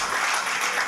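Church congregation applauding, a dense, steady wash of clapping from many hands filling the whole short moment.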